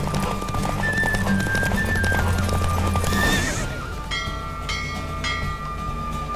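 A horse gallops during a race in The Witcher 3, its steady hoofbeats and a whinny running loud and continuous alongside game music tones, with no talk.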